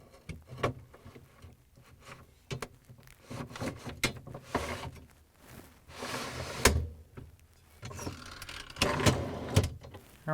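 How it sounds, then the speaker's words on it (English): Plastic and metal clatter and sliding scrapes come from fitting the freezer drawer rail back into a Whirlpool, KitchenAid or Maytag refrigerator freezer. The knocks and rattles are close, arrive in irregular bursts and carry no talk. "Next, I'm going to slide in the rail."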